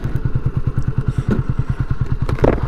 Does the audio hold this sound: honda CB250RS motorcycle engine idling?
yes